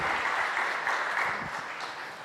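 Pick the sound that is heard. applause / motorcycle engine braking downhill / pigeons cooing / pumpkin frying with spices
applause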